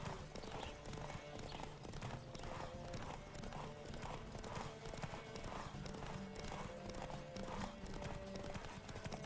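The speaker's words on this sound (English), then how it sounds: "Don't spare the horse!" Rapid, rhythmic hoofbeats of a galloping horse in a horse race in The Witcher 3 video game pound steadily throughout, with a brief whinny and faint background voices.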